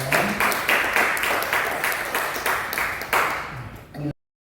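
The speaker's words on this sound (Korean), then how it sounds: "박수하겠습니다." A church congregation claps during a Sunday daytime worship service, a fairly loud burst of steady applause lasting about four seconds before stopping abruptly.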